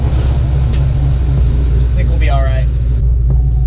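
A cammed 1999-2004 Ford Mustang GT New Edge V8 idles with a loud, deep, lumpy rumble that stays steady and close throughout, while someone talks briefly over it.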